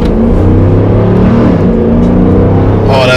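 Dodge Durango R/T SUV accelerating hard in sports mode, a loud, close engine drone with rising harmonics heard from inside the cabin, running continuously with a brief voice near the end.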